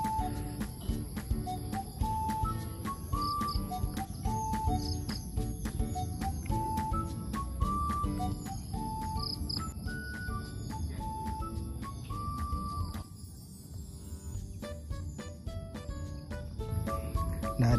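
Steady outdoor chorus of chirping crickets with scattered bird calls and whistles, continuous and fairly loud throughout, dipping briefly near the end.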